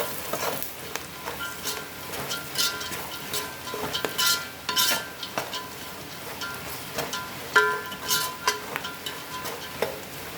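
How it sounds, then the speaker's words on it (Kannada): Curry leaves frying in hot oil in a pan, with a steady sizzle under repeated scraping and clinking stirring strokes, close and fairly loud, with no talking. "ಚೆನ್ನಾಗಿ ಫ್ರೈ ಮಾಡ್ಕೋಬೇಕು ಇದೆಲ್ಲ"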